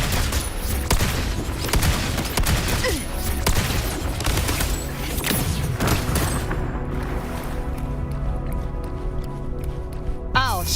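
Rapid bursts of gunfire from the video game Wuthering Waves crackle densely through a busy, loud mix of music and other effects, the shots repeating in quick clusters across the whole stretch.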